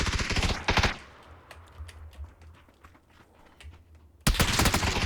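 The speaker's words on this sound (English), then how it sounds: "Oh, I got shot from a different angle." Gunfire in the battle-royale video game PUBG: a loud rapid burst of automatic shots opens, sparse fainter clicks and distant pops follow, then another heavy close burst of rapid fire cuts in at the end.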